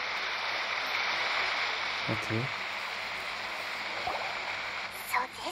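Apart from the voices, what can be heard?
waterfall in the video game Genshin Impact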